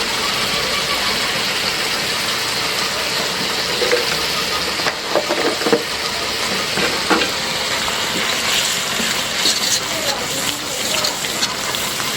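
Spices with turmeric powder fry in a pan being prepared for meat, giving a loud, continuous sizzle and crackle with intermittent stirring scrapes throughout.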